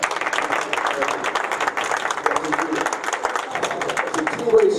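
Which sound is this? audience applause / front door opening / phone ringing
audience applause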